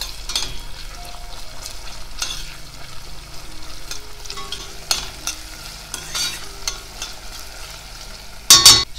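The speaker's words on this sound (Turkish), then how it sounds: "Salçayı iyice soğan ve biber sarımsakla kavurmaya devam ediyorum." Tomato paste frying with onion, pepper and garlic gives a soft, continuous sizzle under steady stirring scrapes, heard up close with no voices, and a sharper clatter of the spoon near the end.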